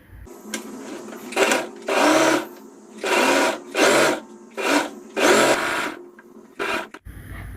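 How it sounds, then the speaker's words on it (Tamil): A sewing machine stitches the neck seam of a V-neck blouse in repeated bursts of fast, whirring, rattling runs, separated by short pauses, close and loud with no talk. "இப்போ நெக் மட்டும் தான் நான் வந்து ஸ்டிச் பண்ணியிருக்கேன்."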